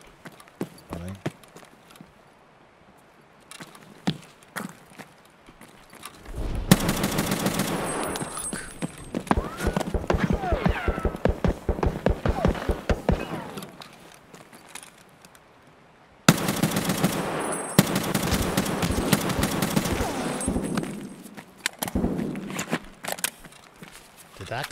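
Rapid bursts of rifle fire ring out in a raid in the shooter game Escape From Tarkov, an enemy and his teammate firing from a building, with loud sustained volleys separated by quieter stretches of movement.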